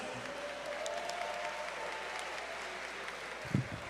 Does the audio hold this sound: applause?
yes